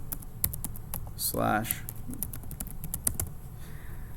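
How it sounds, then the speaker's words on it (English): Quick clicks of a computer keyboard during form entry, an irregular run of sharp taps close up, with a short spoken word partway through. "I'm typing in here"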